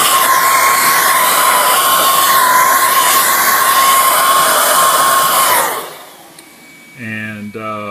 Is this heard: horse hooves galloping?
no